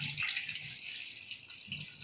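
Water drained off soaked lentils for dal vada, a soft, thin splashing trickle that stays fairly quiet and steady, with brief dips, over a couple of seconds.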